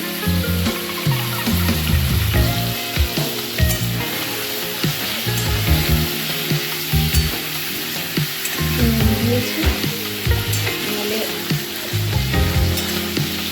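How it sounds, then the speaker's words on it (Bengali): Broiler chicken fries in a little oil, giving a loud, continuous sizzle and crackle with stirring scrapes throughout; one brief spoken word. "আমি এই চিকেনটাকে ভালো করে ভাজছি"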